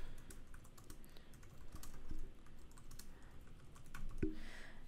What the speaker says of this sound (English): So let's type some stuff in here.